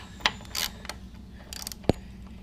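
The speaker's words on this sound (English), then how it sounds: "you're going to get up underneath there with your wrench" A wrench works the oil drain bolt under a 150cc or 50cc GY6 scooter, giving a few close metallic ratcheting clicks and scrapes, including one sharp knock near the end, without talk.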